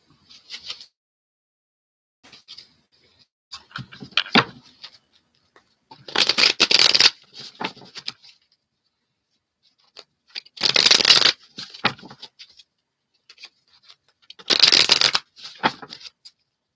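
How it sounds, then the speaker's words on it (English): Lover's Oracle cards shuffled by hand, three long bursts of rapid riffling flutter and crisp card slaps separated by softer handling, close and alone without talk. "Let me just shuffle these to get a new little essence in here."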